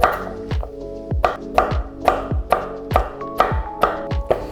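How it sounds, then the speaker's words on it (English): A small carrot sliced on a cutting board: about nine crisp, evenly spaced knife chops, close and loud, with brief quiet gaps between strokes. "Quickly slice this up."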